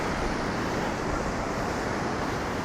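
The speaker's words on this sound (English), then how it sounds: "unless it's an onshore wind like it is today, which is typical." Onshore wind and surf at a cliff-lined bay, a steady broadband roar of breaking waves and gusting wind with no distinct breaks.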